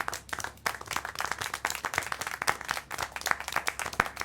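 Rapid applause-like clapping from a character in the video game Syberia The World Before, a dense run of sharp close claps continuing steadily throughout with no talk.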